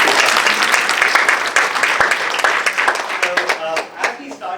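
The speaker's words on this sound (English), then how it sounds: "Big round of applause for Stefan." Audience clapping at a student mentoring mixer event, a dense round of applause that thins out while a voice begins speaking over it near the end.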